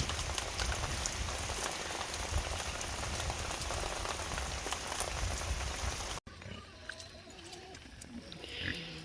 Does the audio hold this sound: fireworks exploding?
no